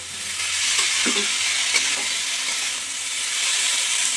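Bottle gourd stirred into a fried paste of ginger, cumin and coriander in a pan, giving a continuous close sizzle and hiss with a few soft scrapes, no talking.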